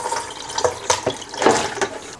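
Liquid drains off salted cabbage being prepared for kimchi, heard close up as irregular splashes, drips and trickles of brine.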